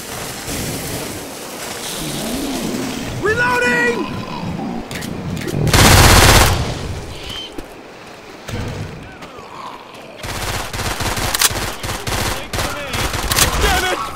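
Gunfire rings out in a Left 4 Dead 2 match, loud rapid bursts and shots mixed with a heavy roaring blast midway, game effects and a shouting voice throughout.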